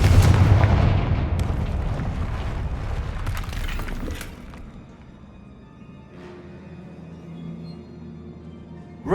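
Confringo blasting spell in the Hogwarts Legacy video game bursts into a loud, rumbling explosion with heavy debris crashing for about four seconds, then fades to a quiet, low ambient hum.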